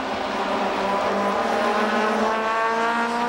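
JTCC touring race cars at full throttle at Suzuka in 1994 give a steady, loud engine roar with a slowly rising pitch as they pass close by, and no voices are heard.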